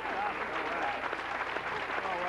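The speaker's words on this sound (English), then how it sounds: "Warm round of applause" A studio audience at a morning radio show claps in a moderate, steady patter while voices go on over it.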